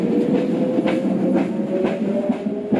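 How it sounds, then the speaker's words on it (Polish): Tram rolling past on a Rome street, a steady low rumble of wheels on rails with faint rhythmic clacks, continuous and moderately close, no talking. "I jeżdżą tu tramwaje."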